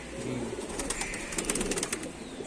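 Black-winged pigeons perched in a loft, cooing and chattering softly together, a close, continuous layer of bird calls.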